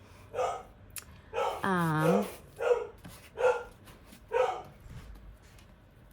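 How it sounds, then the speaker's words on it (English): A household dog barks a few times in the background of a craft room, short repeated barks spaced through the moment, with a person speaking briefly nearby. "That was the dog."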